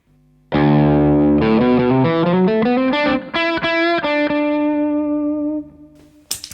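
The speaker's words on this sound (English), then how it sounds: "And the Dane sounds like this." A Les Paul electric guitar through a Revv D20 amplifier, boosted by The Dane MK2 pedal, plays a loud overdriven riff: one long chord, then rapid stepping notes and stabs that ring out before a short final strum.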